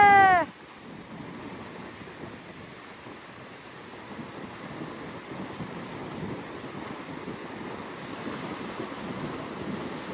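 Sea waves wash steadily onto an autumn beach where two dogs are wading into the water, a broad, continuous surf roar at moderate level with no talk.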